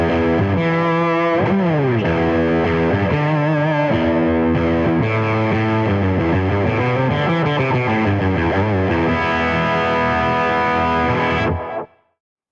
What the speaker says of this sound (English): let's begin with a distortion setting. I'm using the rear pickup here